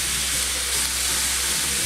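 Kielbasa, peppers and onion fry in a hot pan, with the meat browning, giving a loud, steady, close sizzle with no break.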